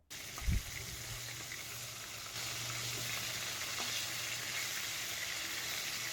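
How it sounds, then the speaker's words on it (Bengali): Fish pieces frying in hot mustard oil in a wok, a steady bright sizzle that swells after a brief drop-in thump and continues evenly throughout, with no voices. "আমি রান্না করব সর্ষের তেলে মাছগুলো এক এক করে কড়াই দিয়ে দিচ্ছি যেহেতু তেলটাও গরম হয়ে গেছে"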